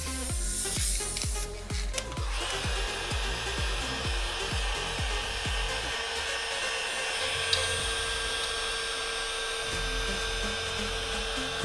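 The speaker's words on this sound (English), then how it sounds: "the heat gun helps a lot. Speeds up your drying times." A heat gun blows steadily on fresh primer during a small car paint repair on an Audi, a continuous airy roar with rapid rattling ticks at the start, running without speech.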